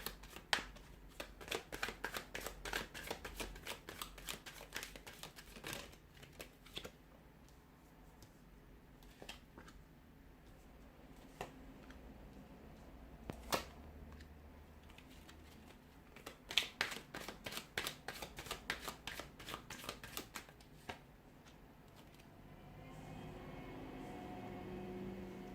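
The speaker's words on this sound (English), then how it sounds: "So we'll give the cards a shuffle here" Tarot cards shuffled by hand in repeated riffling bursts of rapid crisp flicks, with brief pauses and scattered taps between rounds, quiet and close, ending in a soft rustle.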